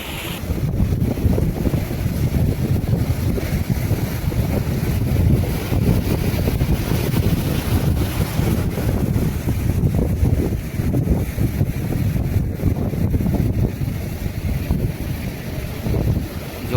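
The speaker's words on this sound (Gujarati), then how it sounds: "ફેમિલી મોજા પસાર કરતી કરતી આપણી બોટની ધીરે ધીરે આગળ વધતી જાય છે" A fishing boat pushes out through surging sea waves under strong wind, with a constant roar of wind buffeting and water rushing that stays loud and unbroken throughout.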